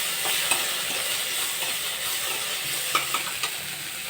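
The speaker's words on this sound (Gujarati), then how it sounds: "અને આ બધી વસ્તુને સરસ હલાવી લઈશું" Chili paste mixture stirred in a frying pan, a continuous soft sizzle broken by a few sharp spoon taps and scrapes against the metal.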